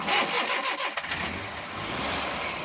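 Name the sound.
Suzuki Bolan engine starting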